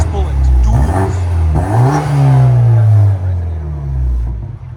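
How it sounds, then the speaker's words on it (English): A 2014 BMW 228i with a 2.0L turbo engine, downpipes and dual Dynomax Race Bullet exhaust revs up and holds, a loud, close, rising and falling drone with excited voices over it. "What do you guys think of the sound? It's the only 2 series with Dynomax race bullets, duals."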